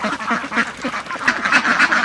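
Ducks quack repeatedly in close, overlapping bursts, a busy chorus of nasal calls from several birds nearby.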